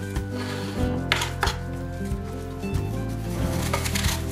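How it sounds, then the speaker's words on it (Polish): A knife dices peeled apples repeatedly on a cutting board in an uneven rhythm, with soft tonal background sound underneath. "Obrane i pozbawione gniazd nasiennych jabłka kroimy w kostkę."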